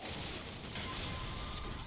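Turret gunfire in the video game BioShock Infinite, a steady dense mechanical clatter of rapid shots running unbroken throughout, loud and close, with a slight surge partway through.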